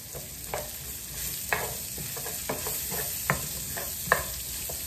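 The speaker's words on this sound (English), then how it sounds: "We saute the onion for about a minute." Onion sautés in a pan with leftover fat, a steady low sizzle broken by occasional spatula scrapes and clicks as it is stirred, near and even, with nobody talking.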